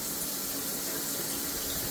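A BARROCK bidet sprayer fitted to an existing toilet blasts a powerful jet of water, a steady loud close hiss with no break and no voices.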